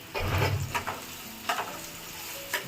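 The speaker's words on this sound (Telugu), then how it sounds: "ఉల్లిపాయ ముక్కలు ఇప్పుడు లైట్గా వేగినాయండి" Sliced onions and green chillies fry in oil in a pan for a drumstick cashew curry, a steady close sizzle with a few stirring scrapes and clinks.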